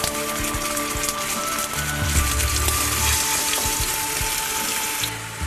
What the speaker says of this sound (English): Just lightly fry the apple rings in the hot oil.